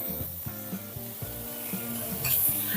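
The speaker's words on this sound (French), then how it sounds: "maintenant, je vais mettre les saucisses" Spicy Portuguese sausages from a Portuguese grocery sizzling in a frying pan while a francesinha sandwich is prepared, a steady close-up crackling fry under rhythmic tonal background sound.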